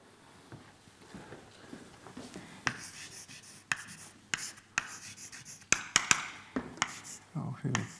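Chalk taps and scrapes on a board in irregular bursts as a lecturer writes out an equation in a lecture on transport in the cell. The marks are close and distinct over quiet room tone.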